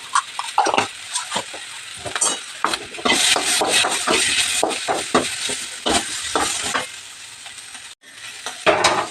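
Spices with black peppercorns and cumin fry in a hot pan, sizzling in bursts as a utensil stirs and scrapes against the metal, with loud clattery strokes and brief pauses.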